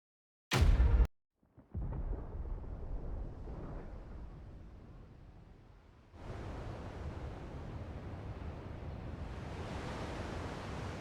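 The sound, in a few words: thunder in the video game Final Fantasy XVI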